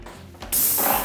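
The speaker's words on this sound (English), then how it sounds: "Pull the trigger about 10 centimetres before the edge of the surface you want to spray" A Wagner 150m 300W high-efficiency airless paint sprayer bursts into a loud, steady hissing spray partway through, close and sustained until the end after a quieter mechanical lead-in.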